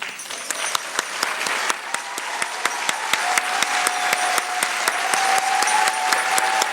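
A room of employees at a 2014 service awards ceremony applauds in a steady, dense wash of clapping that builds slightly louder over several seconds, with a faint tone sustained underneath.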